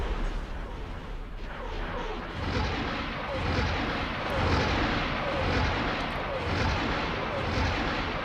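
Spaceship weapons firing in a space battle in the game X4, a dense run of repeated booming shots and blasts over a rumbling background, with a voice speaking faintly underneath.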